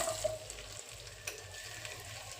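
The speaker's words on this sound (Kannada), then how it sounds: "ಈರುಳ್ಳಿ ಹಾಕ್ಕೊಂಡು ಒಂದು ಸ್ವಲ್ಪ brown colour light brown colour ಬರೋವರೆಗೂ ಫ್ರೈ ಮಾಡ್ಕೊಳ್ಳೋಣ." Chopped onions fry in hot oil in a pan, giving a faint, steady sizzle with soft stirring noises and no voices.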